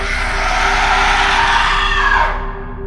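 A loud, sustained scream rings out at close range for over two seconds before cutting off, leaving a low hum behind.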